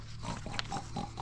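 Pig grunting nearby in an outdoor lakeside setting, a few short low snorting grunts over a steady low background hum, with no voices.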